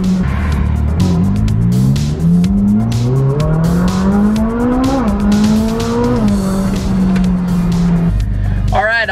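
A Ferrari sports car driving away after a tire repair, engine loud and close as it revs up through the gears in rising pulls, with a brief tire chirp and someone talking over it.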